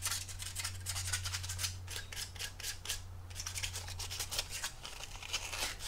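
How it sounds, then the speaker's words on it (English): Small brass tubes being sanded with 220 grit sandpaper to roughen the surface, a close, quiet, steady run of rapid rasping strokes with a low hum beneath. "with these little brass tubes, you want to sand them a little bit"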